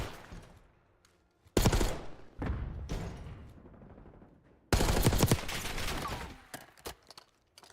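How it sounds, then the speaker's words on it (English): Gunfight in Call of Duty during an esports playoff match, bursts of rapid automatic fire in two loud dense clusters with scattered shots between, near and intense, no talk. "that's a big gunfight for F-Dot to win"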